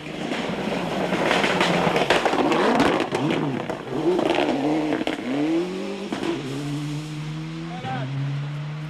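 A Ford Escort Cosworth rally car on the 1997 ALMC Rally roars past, its engine note rising and falling through gear changes before settling into a steady drone, with a commentator talking over it.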